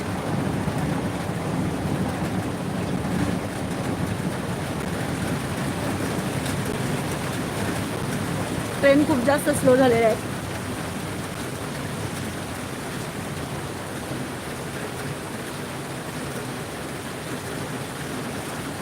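Heavy rain pours down during a dark, stormy afternoon in Mumbai, a steady dense wash of noise throughout with a brief louder surge midway, while a voice speaks faintly underneath.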